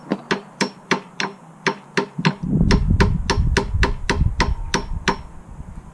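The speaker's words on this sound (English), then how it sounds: "Just bang with the hammer." Hammer banging on a part of a Graco 390 PC airless paint sprayer during a priming repair: a steady run of about fifteen sharp metallic strikes, evenly spaced and close, with a low rumbling noise joining halfway through.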